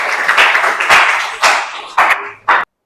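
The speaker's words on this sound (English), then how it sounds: "Give applause for Windy." A classroom breaks into a burst of close, loud clapping that comes in several swelling waves, then stops abruptly.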